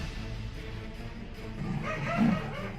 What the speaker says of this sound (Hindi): कमरे में बंद इस तेंदुए के वीडियो के बैकग्राउंड से आप डॉगी के भौंकने की आवाज सुन सकते हैं।